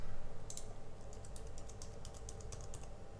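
Someone types a password on a computer keyboard in a quick string of light, close key taps over a faint steady hum.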